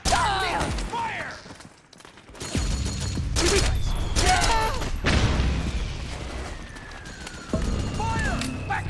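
Suppressing gunfire in Metal Gear Solid 4 crackles in repeated bursts beneath shouted voices and a wailing siren-like whine. Heavy booms and echoing shots rise and fall across a chaotic battle.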